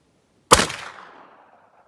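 A single loud, sharp shot rings out from a Rossi lever-action rifle firing a mild SST .44 load, decaying over about a second of echo outdoors.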